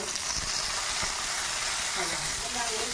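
Ginger, garlic and curry leaves sauté in hot oil with mustard seeds for a masala dosa filling, giving a steady, loud, close sizzling hiss with brief voice underneath.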